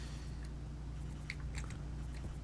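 Soft, faint munching and biting sounds of a character eating in the video game Stationeers, a few small crunchy clicks over steady background hum.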